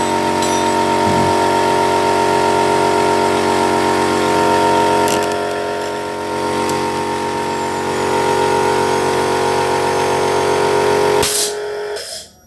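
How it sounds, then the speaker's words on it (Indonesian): An air compressor runs with a steady, loud mechanical drone as it blows carburetor cleaner residue off the throttle body of a fuel-injected Honda Revo motorcycle, ending in a short burst before it cuts off. "saya dorong sisa-sisa karburator cleaner menggunakan kompresor"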